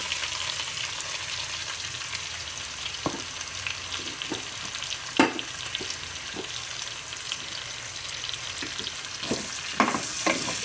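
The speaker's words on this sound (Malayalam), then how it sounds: "ഇനി പൊരിച്ചെടുത്ത എണ്ണയിലേക്ക് നമുക്ക് ഈ സബോള ഇടാം." Sliced onions sizzle and crackle steadily in hot oil for a chicken curry, with a few sharp stirring clacks from a spoon against the pan scattered throughout and no voices.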